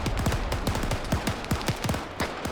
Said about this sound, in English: I'm still hearing gunshots from up there.